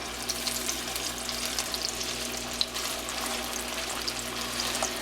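Ingredients for Hiroshima-style okonomiyaki cooking in a pan: an even, continuous sizzling hiss with small crackles scattered throughout, close and steady with no talk.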